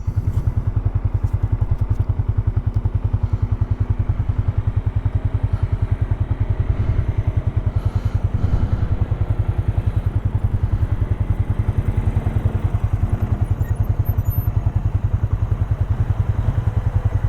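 A Polaris off-road vehicle grinds up a rough desert canyon trail, its engine droning steadily with a rapid pulsing throb and occasional clatter and thumps from the rough ground, close and continuous throughout.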